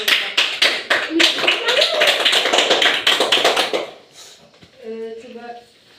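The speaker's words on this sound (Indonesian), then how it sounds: "Mari kita beri aplaus kepada kelompok." A classroom of students claps for a group, a dense burst of rhythmic applause lasting several seconds, then fading as a voice speaks over the quieter room.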